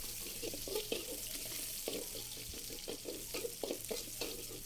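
Bay leaves, lime leaves, shallots and garlic fry in hot oil for dry tempeh, a steady soft sizzle with intermittent stirring scrapes and clinks of a utensil in the pan.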